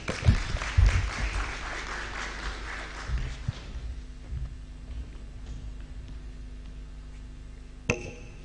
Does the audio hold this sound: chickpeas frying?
no